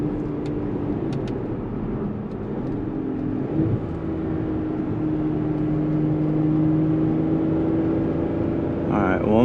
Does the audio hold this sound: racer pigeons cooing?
no